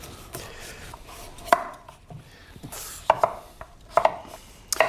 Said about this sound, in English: we want to skin this and chop it into chunks